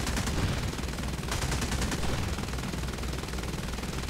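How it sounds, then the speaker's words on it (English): Rapid bursts of .30 caliber machine gun fire from a Fokker T.V bomber in air combat in War Thunder, dense and continuous rattling that runs loud and unbroken throughout, with no speech over it. "I believe most of them are 30 cal machine guns"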